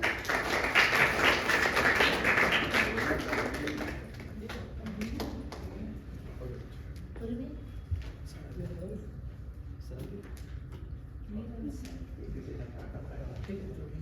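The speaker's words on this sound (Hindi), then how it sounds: "एक बार जोरदार ताली बजाएं।" An audience at a Hindi poetry stage event in Rajim, Chhattisgarh, claps loudly for a few seconds at the start, then the applause fades into scattered faint taps while a speaker's voice carries over a public-address system.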